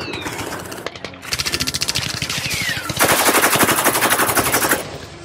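Video game gunfire in sustained rapid bursts, loud and close, picking up in intensity and holding before tapering off at the end.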